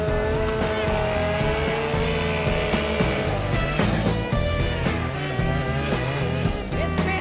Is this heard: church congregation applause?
no